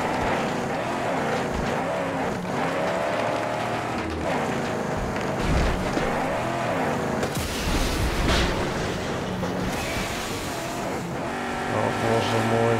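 A car in the video game Mad Max drives off-road with a V6 engine, a loud revving roar that rises and falls under frequent talking, with crashes and rough bumps midway.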